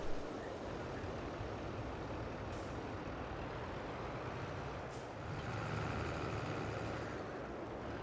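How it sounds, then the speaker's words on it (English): A JCB Fastrac tractor driving in the video game Farming Simulator 22, a steady low engine drone with a brief hiss of air brakes, continuous and fairly loud with no talking. "I'm going to get the JCB fast track, and we do have a trailer here somewhere."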